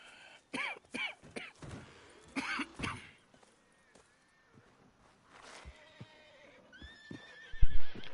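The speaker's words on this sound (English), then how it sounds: "As you can hear, all the horses are quite upset, understandably so." Panicked horses whinny repeatedly near a fire in Red Dead Redemption 2, shrill neighs in bursts with pauses, plus snorts and a few hoof clops, loudest near the end.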